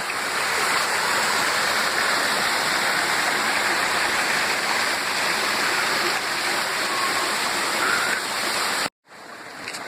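Water from a fountain rushes and splashes continuously downstream at close range, a steady broad roar that cuts off abruptly near the end.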